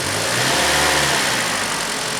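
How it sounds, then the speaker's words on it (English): A car engine runs during an electronic alternator test, its speed brought up to a loud, steady hum and whir with no talking over it. "So if we bring the engine speed up"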